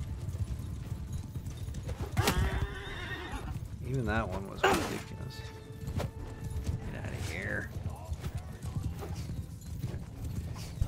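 Horses whinny and neigh amid steady clip-clop of hooves during a cavalry skirmish in the medieval combat game Mount & Blade II: Bannerlord, with a voice talking over the battle noise.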